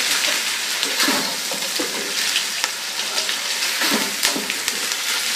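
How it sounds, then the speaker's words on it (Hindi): Chicken frying in a pan for white chicken pulao, a steady dense sizzle with crackling spatters and occasional stirring scrapes, close and loud throughout with no talking. "चिकन को दो तीन मिनट फ्राई करते हैं"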